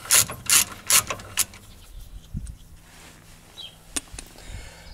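Ratchet wrench loosening an Allen bolt on a brake caliper of an Audi A3, a few quick sharp clicking bursts up close followed by a single crack as the bolt breaks free, then quiet workshop handling noises.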